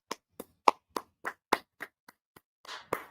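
Sharp, separate hand claps ring out one after another, about a dozen spread unevenly over a few seconds, fairly close with short silent gaps between, ending in a brief looser burst rather than sustained crowd applause.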